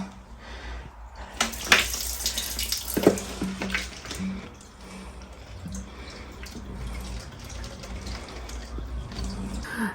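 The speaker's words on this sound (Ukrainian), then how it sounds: "Цей бювет є безкоштовним, можна набирати багатенько собі води." Water runs from a free public drinking-water pump tap at a roadside well with stump seats on a hot early-autumn day, a steady splashing stream with a few louder gushes near the start, close by and continuous.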